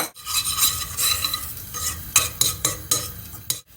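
Tomato paste sizzles in hot oil in a pan, a loud close frying hiss broken by repeated stirring scrapes and clacks of a utensil against the pan, with no one speaking.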